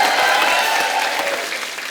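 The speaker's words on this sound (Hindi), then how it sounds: "जोरदार ताली।" Studio audience at a Hindi TV comedy show breaks into loud, dense applause that holds steady for a couple of seconds, slightly fading toward the end.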